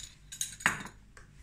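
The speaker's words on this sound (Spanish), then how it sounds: "lo vamos a triturar bien así con la cuchara y se lo vamos a poner" A spoon clinks against a bowl while paprika is mixed into a homemade barbecue sauce, giving a few light scraping taps close by in an otherwise quiet kitchen.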